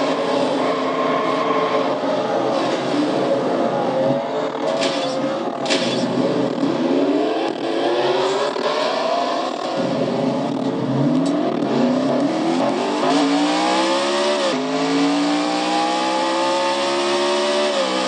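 Onboard engine of a Castrol GTX Cup Series race car during a restart at the Crown Royal 400, loud and continuous with repeated rising revs and gear changes, engine and other cars close by throughout, no talk.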